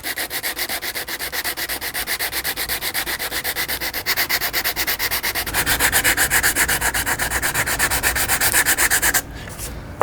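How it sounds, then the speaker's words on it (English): Fiberglass filler is hand-sanded with 180 grit sandpaper, a loud, close, rhythmic scratchy rasp of fast back-and-forth strokes running steadily for about nine seconds before stopping. "So I've got 180 grit sandpaper here, and I'm just going to use this on the area that we fill to get the shape close"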